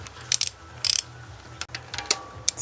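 A ratchet wrench clicks in short bursts as bolts are tightened during reassembly of a Peugeot 206 S16 engine, close and fairly quiet, with a low steady hum underneath.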